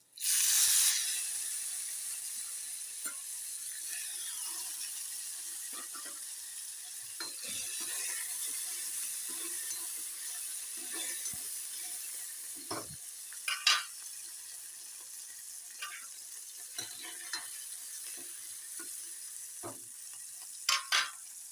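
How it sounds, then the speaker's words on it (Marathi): Chopped tomatoes hit hot oil for a Marathi spring onion greens stir-fry, setting off a sharp sizzle that settles into a steady hiss. Scattered spoon scrapes and clinks run throughout, with no talking. "तेल गरम झालेलं होतं ना टोमॅटो टाकू"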